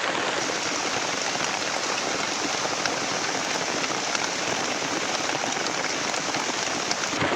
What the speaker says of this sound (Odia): ବର୍ଷା ଲଗାତାର ହେଇ ଚାଲିଛି ବନ୍ଦ ହେଉନି